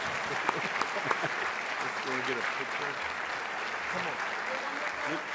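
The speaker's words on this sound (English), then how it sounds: "One more round of applause for the cowboy." Steady applause from a large conference audience at a mayors' plenary session in Dallas, sustained clapping throughout with some voices and cheers mixed in.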